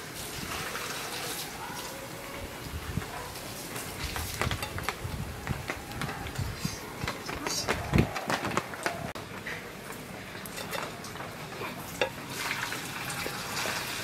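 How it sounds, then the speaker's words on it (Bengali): Vegetable manchurian balls frying slowly in oil over low heat, giving a steady, dense crackle and sizzle with occasional louder pops, close and continuous with no talking. "এইভাবে একদম কম তাপে আস্তে আস্তে ভাজবেন, দেখবেন আস্তে আস্তে লাল হবে।"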